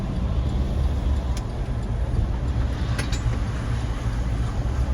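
Chevy Tahoe, a left-hand-drive SUV fitted with new tyres and with the rear spacers removed, driving with a loud, steady rumble of engine and road noise from inside the cabin.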